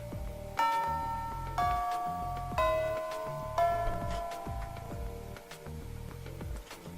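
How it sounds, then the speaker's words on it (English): School bell chime from the video game Fate/EXTRA signaling the end of classes: a series of four descending bell tones ringing out, each sustained and overlapping, then fading with a lingering resonance. "the bell signaling the end of classes sounds"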